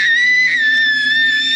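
An actress in a Bionic Force film scene lets out one sustained, piercing high scream, loud and unbroken throughout, with no other voices.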